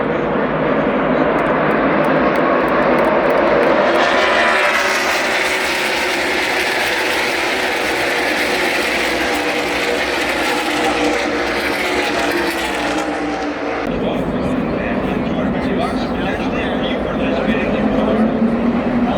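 Loud race car engines roar past at a speedway during a NASCAR race, a sustained, droning rush that swells and shifts pitch, then drops away abruptly into lighter rumbling noise.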